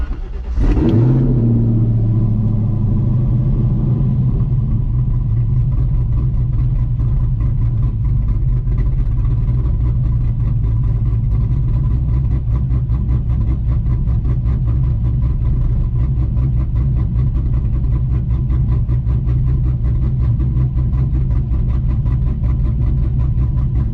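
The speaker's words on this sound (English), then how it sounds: "We're gonna drive around, get on the highway and do some pulls." A car with a Holley Hi-Ram intake, solid roller cam and CNC heads starts up and then runs loud and close for the whole stretch, a deep steady rumble with a lopey idle character and no talk.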